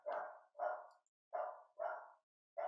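A dog barks five times in a regular, evenly spaced series, each bark short, full and fairly close, with brief silences between them.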